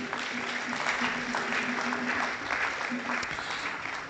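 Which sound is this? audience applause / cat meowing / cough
audience applause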